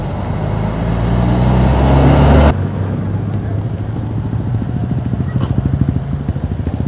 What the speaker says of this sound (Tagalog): Ayun, may motor din.